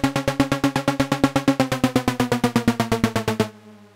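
Elektron Syntakt synth sequence playing a rapid run of evenly spaced, punchy repeated notes whose pitch slides steadily downward under an LFO, loud and alone, ending abruptly into a short decaying tail.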